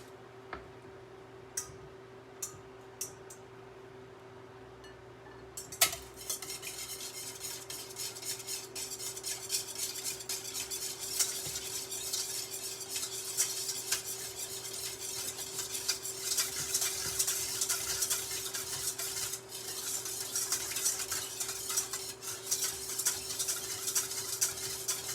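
Quiche Lorraine filling is whisked in a bowl with rapid, continuous ticking and clattering strokes that start after a few faint taps and grow busier and louder, close by.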